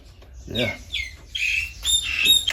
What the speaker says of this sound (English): Oh, you very noisy birds today.